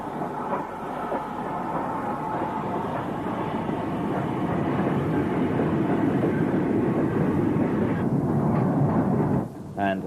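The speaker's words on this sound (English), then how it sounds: "we see 9F number 92247 on this down ore train from Banbury" A BR 9F steam locomotive, number 92247, hauls a down ore train from Banbury through Snow Hill in the 1950s or 1960s, a continuous heavy rumble of wheels and wagons that fades near the end.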